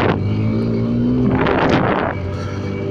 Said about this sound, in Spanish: Me imagino que escuchan el sonido de la moto